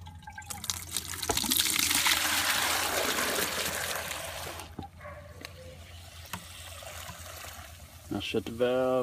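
Water pours from a garden hose into a plastic bucket of about two gallons, a loud, steady broadband rush that fades after a few seconds, leaving quieter splashes and handling noises.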